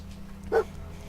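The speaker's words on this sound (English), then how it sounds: "Dog meat pick up the scent again?" A single short bark-like yelp from the dog companion Dogmeat in the video game Fallout 4, a brief loud burst over a low steady game hum.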